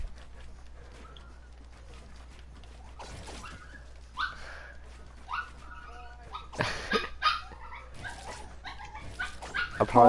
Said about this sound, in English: There's literally a dog crying